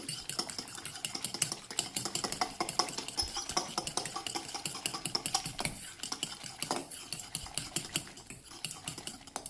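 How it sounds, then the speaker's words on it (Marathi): Eggs being beaten with a spoon in a bowl for an omelette, a fast, steady run of close clinking and tapping strokes lasting throughout, with no talking. "आता मी चांगलं फेटून घेते चमच्याने."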